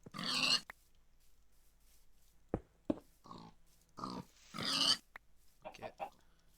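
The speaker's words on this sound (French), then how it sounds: "Un peu de cochon." Pig grunts in a video game sound in several short bursts spread across the stretch, fairly quiet, with brief gaps and small clicks between them and no talk over them.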